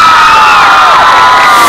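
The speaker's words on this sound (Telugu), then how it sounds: "అందరూ ఒకసారి గట్టిగా క్లాప్స్ కొట్టండి వాళ్ళ కోసం." A loud crowd of children cheering and shouting in a TV show studio audience, high excited voices whooping together in a bright, sustained burst.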